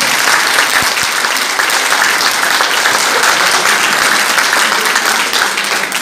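Loud, dense applause from an audience fills the space, steady and sustained without a break.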